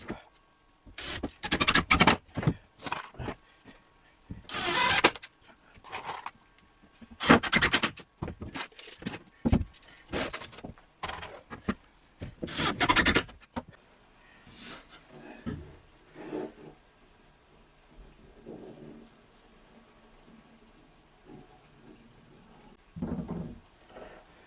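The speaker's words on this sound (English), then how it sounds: "let's cut a little sliver and slot that in so we can continue with the build" A large sheet of board is cut to free a thin sliver for a 6 ft reptile vivarium build. Bursts of rough sawing and scraping are broken by pauses, then give way to softer handling knocks.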